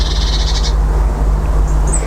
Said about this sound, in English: Now that bird, I don't know if the microphone picked that up.